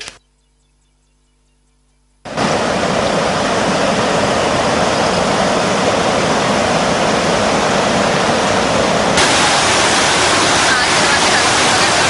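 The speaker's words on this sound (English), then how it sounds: "Spill gates of the Vamadilla reservoir in Dambulla have also been opened." Water rushes through the opened spill gates of the Vamadilla reservoir in Dambulla, a loud, dense, continuous roar that starts abruptly after about two seconds of near silence and holds steady.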